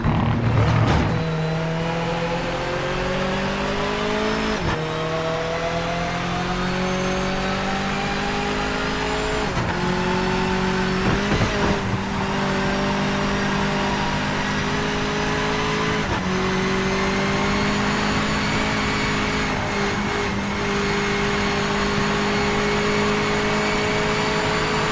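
A race car engine in Project Motor Racing revs steadily up through the gears, pitch climbing then dropping at each shift, loud and continuous with faint tire noise.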